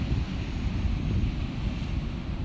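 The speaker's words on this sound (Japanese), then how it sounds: "結構ね、波が入ってきてるんですよ。" Chest-high ocean waves roll in at Chigasaki beach in Japan, a constant low roar of surf mixed with wind buffeting the microphone, with no talking.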